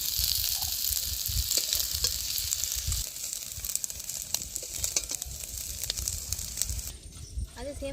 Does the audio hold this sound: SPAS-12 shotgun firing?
no